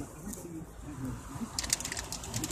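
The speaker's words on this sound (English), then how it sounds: "Chicago pigeons are hardcore." Chicago street pigeons feeding on malted milk balls, with soft cooing and light fluttering and pecking in the open air while someone talks nearby.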